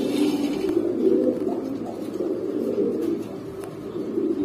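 King-size racing pigeons coo steadily in a low, continuous murmur, several birds overlapping close by with no pauses.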